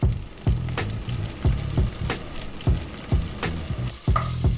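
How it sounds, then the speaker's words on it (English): Cherry tomatoes sizzle in a hot frying pan, a steady close crackle of frying broken by repeated sharp clanks and scrapes as they are stirred and tossed, about once every half second. "Then I'm gonna throw in a handful of cherry tomatoes."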